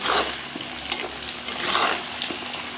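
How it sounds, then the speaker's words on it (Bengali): Salted sweet potato fries in oil until reddish, a close, continuous sizzle and crackle with faint stirring bursts rising and falling through the span, no voices. "এবার আমি একটু লাল লাল করে আবার ভেজে নেব।"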